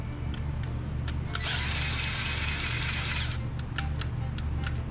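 A Milwaukee power tool with a dead battery whirs in a short, strained two-second burst, preceded and followed by clicking and tapping over a low steady hum while tracks are being installed on a mini.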